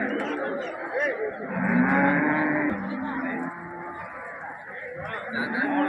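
Cattle low and moo amid the crowded bustle of the Karungalpalayam cattle market in Erode, with steady chatter and livestock noise throughout and a couple of drawn-out moos rising above the din.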